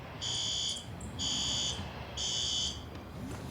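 Building fire alarm system sounding during a monthly test: three loud, steady electronic horn blasts, each about half a second to a second long with short gaps, over a faint room hum.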